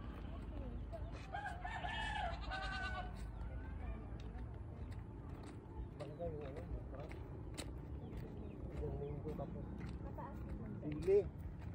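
Chickens cluck and a rooster crows on a rural farm in Antique, Philippines, the calls coming in short bursts mostly early on, mixed with steady outdoor background noise while people talk throughout.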